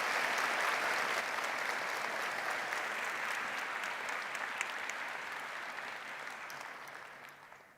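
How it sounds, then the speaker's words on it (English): A graduation hall audience applauds a wind and percussion ensemble and vocalist, sustained full clapping from a large crowd that slowly tapers toward the end. "Let's applaud them."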